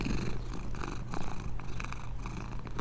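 A giant cat in the game Only Up! purrs loudly and steadily, a deep continuous rumble with low vibrating pulses filling the whole stretch, no voices over it.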